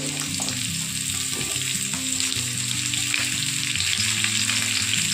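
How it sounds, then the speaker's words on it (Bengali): Carrots and sweet potatoes hit hot oil in a frying pan for a mixed vegetable dish, raising a loud, dense, continuous sizzle with light stirring underneath and no talking. "প্রথমে আমি এখানে এবারে দিয়ে দিচ্ছি গাজরগুলো, দিয়ে দিচ্ছি রাঙা আলুগুলো,"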